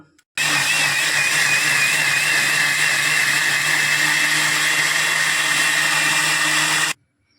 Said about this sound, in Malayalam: അപ്പം നമുക്കിതൊന്ന് അടിച്ചെടുക്കാം